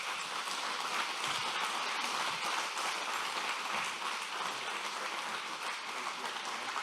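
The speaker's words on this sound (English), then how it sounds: "Can we give Grant a round of applause?" Steady applause from the audience at a 2021 Decker Truck Line awards ceremony as a certificate is presented, a continuous, even rush of many hands clapping, somewhat distant and soft.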